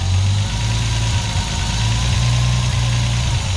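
A rebuilt TB42 turbo engine idles steadily at around 1,000 RPM, a loud, close, low rumble with a continuous mechanical hum and slight vibration.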